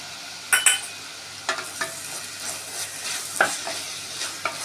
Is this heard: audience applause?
no